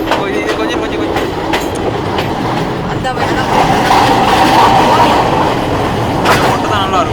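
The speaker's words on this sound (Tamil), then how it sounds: "ட்ரெயின் இந்த பக்கம் வருது." Train running on the Badulla–Colombo line in Sri Lanka, a loud continuous rumble with rhythmic clickety-clack of wheels on rail joints and occasional squeals, heard from on board.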